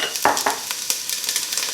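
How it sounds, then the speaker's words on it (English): Diced onion dropped into olive oil in a hot pan sizzles loudly, with a couple of sharp crackles and stirring scrapes at the start, then a steady frying hiss. "we're going to drop in a whole diced onion in."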